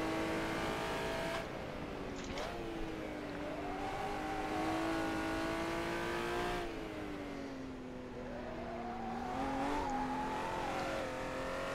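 A Honda NSX-R racing around Suzuka in the rFactor sim, its engine holding a steady high-revving tone that rises and falls through gear changes and corners, with a brief tire squeal, loud and close with no talking.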